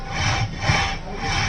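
Steering on a running Honda Verna 1.6 petrol gives off a steady rough grinding, rubbing noise from its faulty electric power steering column motor, close and continuous with slight swells as the wheel is turned.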